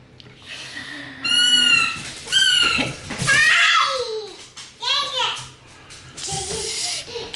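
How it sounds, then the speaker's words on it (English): A toddler and a dog playing indoors: high child squeals and shrieks come in bursts, with a voice talking intermittently and some background clatter. "It's a toddler and a dog playing."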